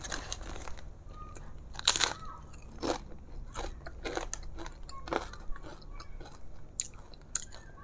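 Crisp crunching and chewing of new Egyptian grilled-chicken flavored snack chips, a cheap five-pound bag, with several sharp bites spread through a quiet close-up setting, no talking.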